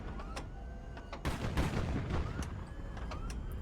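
Rapid bursts of aircraft gunfire in the video game HighFleet, a steady stream of crackling shots and dull booms running through the whole stretch, fairly loud and dense, with no talking.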